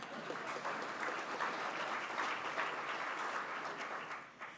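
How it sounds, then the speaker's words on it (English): An audience at a Rotary club meeting claps steadily, a dense, even patter of applause at moderate distance that holds for several seconds before tapering off slightly. "Okay, clap for him, please."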